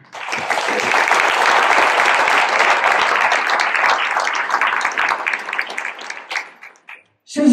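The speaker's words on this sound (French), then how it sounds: "nous pouvons aussi les applaudir." Loud, close applause fills the hall at the mayor of Malestroit's New Year address, holding steady and then thinning into scattered claps before a short burst of sound at the very end.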